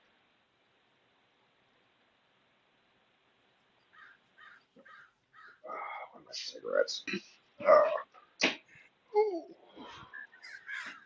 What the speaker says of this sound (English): And I think they're actually crows.